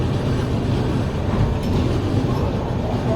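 The Prashanti Express, train 18463, stands at platform 3 of Eluru railway station, giving off a steady, loud, unbroken low rumble with no voices.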